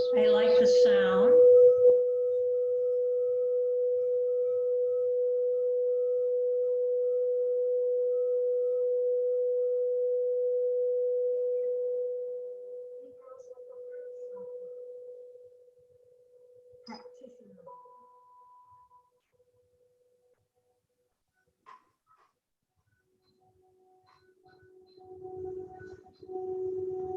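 A crystal singing bowl tuned to the third-eye chakra, struck and left to ring, gives one pure sustained tone that holds steady for several seconds and then slowly fades into near silence, with faint stray sounds afterward.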